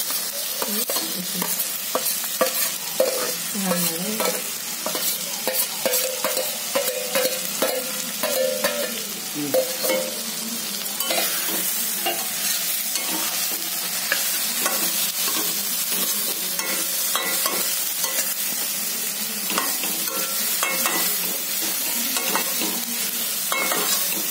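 Cluster beans (gavar) stir-fried in a pan, with a continuous bright sizzle and frequent close scraping and tossing of a spatula, steady and moderately loud throughout with no talking.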